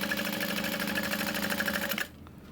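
A sewing machine stitches a backpack's bottom gusset liner seam at a 3/8 inch allowance, a fast steady mechanical whir and rhythmic needle clatter up close, then stopping abruptly near the end.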